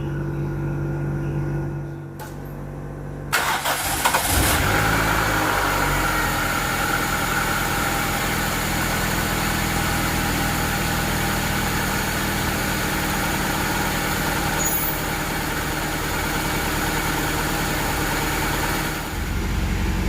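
A warmed-up Toyota Corolla engine with an idle RPM-drop problem idles steadily at close range, a constant low rumble with a brief change in tone early on.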